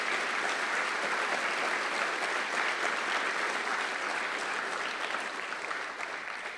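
Sustained audience applause fills a high school program event, a dense, steady clapping from a full crowd that holds loud throughout and only slightly thins toward the end.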